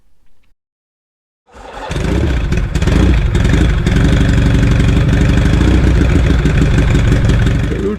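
A classic British Norton Commando motorcycle restarted after weeks of standing: a brief faint sound, a second of silence, then the engine fires and settles into a loud, steady, throbbing idle at close range.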